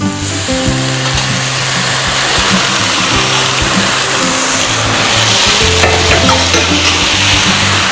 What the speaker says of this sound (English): Now we're going to start adding our stock. A little bit at a time.